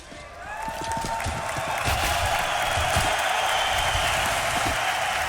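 A loud Swedish arena crowd at a NiP versus Virtus.pro CS:GO match at DreamHack Masters Malmö 2016 cheers and roars in a steady, swelling wash of noise, no talk over it.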